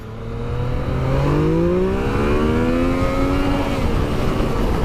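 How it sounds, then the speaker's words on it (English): The engine of a 2016 Yamaha XSR 900 motorcycle rises as the throttle opens, climbing steadily in pitch for a few seconds and then levelling off. It is loud and close, with no talking. "I'm going to throttle up a little bit, the wheel's going to come up"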